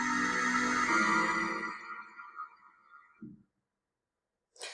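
A computer-played composition swells into massive sustained chords that slowly decay, then a single low timpani thump lands, followed after silence by a short bright burst.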